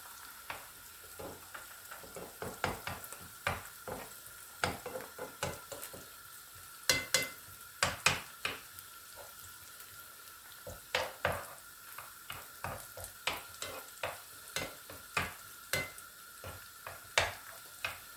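Eggs cook with onions and a little thyme in a pan, a faint low sizzle running under frequent sharp utensil clicks and taps against the pan, spaced irregularly throughout.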